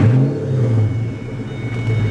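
A 2018 Ford GT's engine drones loud and close with a steady low rumble, easing slightly midway before swelling again, on a hot South Florida day.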